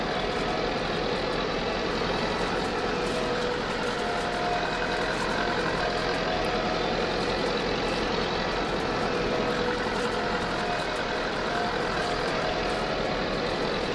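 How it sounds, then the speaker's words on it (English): Small 79 horsepower turbocharged tractor engine running steadily while haying, a loud continuous droning rumble with no breaks and no talk. "This little tractor, I am very happy with this little tractor. It's I think it's like 79 horsepower with the turbo"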